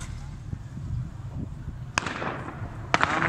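Gunshots fired at crowds during the November 2019 street protests in Iran: two sharp, loud reports about a second apart, cutting through a steady low rumble of street noise.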